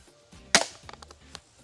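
A single sharp snap of an Ek Archery Cobra System RX Adder repeating crossbow pistol with 90-pound limbs firing an arrow, followed by a few faint clicks and taps in an otherwise quiet space.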